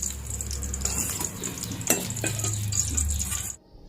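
Stuffed green chillies fry lightly in hot oil in a pan for a Gujarati sweet-and-sour kadhi, giving a steady, close, loud sizzle with occasional stirring scrapes before it cuts off abruptly.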